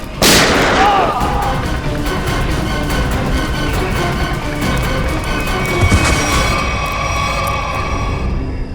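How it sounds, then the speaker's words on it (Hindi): A single loud gunshot cracks at the start in a CID crime-drama TV scene, followed by a long, noisy reverberant tail with dramatic background sound. "आनंद गोली चल जाएगी।"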